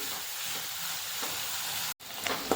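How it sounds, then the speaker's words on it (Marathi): Masala spices fry in hot oil for a rajma curry, a soft continuous sizzle and crackle near the pan, quiet with a brief dropout, no talking. "बघा मसाला छान भाजला गेला"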